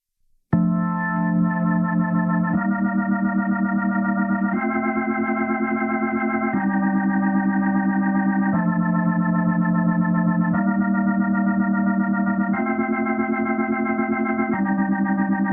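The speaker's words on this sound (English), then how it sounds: "You can hear the difference when the distance is very close on the drum, more mechanical sound." A Yonac Aries rotary speaker effect, with the microphone set very close to the drum, colours a distorted, sustained organ-like chord sequence that changes every two seconds with a steady mechanical warble, no voices.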